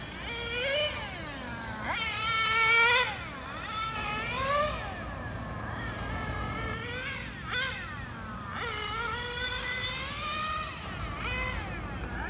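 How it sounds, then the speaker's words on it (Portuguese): Small combustion-engine go-karts race around a little track at a park in Joinville, several buzzing motors rising and falling in pitch as they pass and circle, continuous and moderately loud with no talking. "São carrinhos a combustão mesmo, gente. Motorzinho a combustão."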